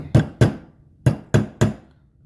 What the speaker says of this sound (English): Let's use a light hammer, nothing crazy